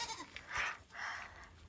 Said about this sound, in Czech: to jsou kozy